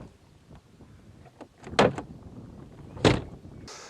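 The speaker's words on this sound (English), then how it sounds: "when you open the door, the two surfaces touch." A car door bent inwards by damage is opened, its warped surfaces touching with soft creaks and scrapes that build to two sharp metallic clunks, close and fairly loud, with no talking.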